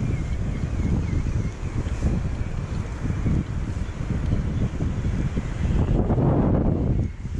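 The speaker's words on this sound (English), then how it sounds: "Nice, a lot of wind though." Strong wind batters the microphone during a ride along the Wilmington, Delaware waterfront, where sailboats are out on the water. The rumbling, gusty roar is loud and continuous, with faint surges throughout.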